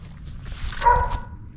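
A brief dog vocalization, a short whining yelp at close range from a dog inside a man cave, over faint background noise.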